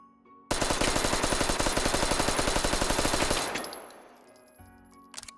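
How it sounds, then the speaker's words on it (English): Owen gun, a World War II Australian submachine gun, firing full auto in the VR game Hot Dogs, Horseshoes & Hand Grenades: one long, close, loud burst of rapid evenly spaced shots, followed by a fading echo and a few mechanical clicks. "there you go, the Owen gun"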